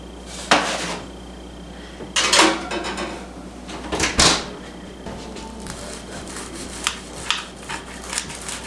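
A metal sandwich tray clatters against an oven rack as it slides back in, with a few sharp clanks spread over several seconds and softer knocks trailing after, close by.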